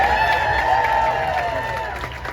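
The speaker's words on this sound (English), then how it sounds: "Let's give him a round of applause." Outdoor crowd at the Iowa State Fair applauding a political speech, a steady, dense wash of clapping and cheering that holds at a moderate level throughout and fades slightly at the end.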